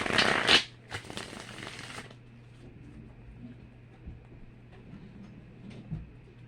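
Playing cards are shuffled in a quick riffle, a burst of crisp fluttering at the start, followed by quieter handling and soft background hum.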